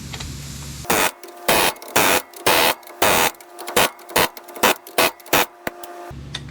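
An impact wrench runs lug nuts onto a car wheel during a wheel bearing repair, firing about a dozen loud, sharp rattling bursts in quick succession with brief pauses between them.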